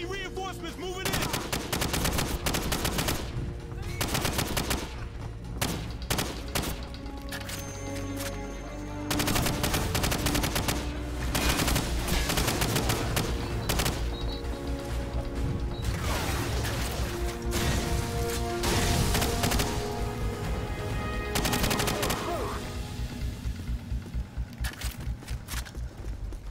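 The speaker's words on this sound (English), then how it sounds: "We're taking some fire up here at the vehicle depot." Enemy gunfire in Call of Duty 4: Modern Warfare at a vehicle depot rattles almost without pause, with dense machine-gun bursts and single shots, some loud and close, others distant, plus crashes and footsteps, and brief voices beneath.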